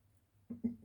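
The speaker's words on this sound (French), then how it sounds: "Ciseaux." Two quick snips from scissors cutting a straight fabric ribbon, the blades gummed with glue, crisp, close and alone in a quiet room.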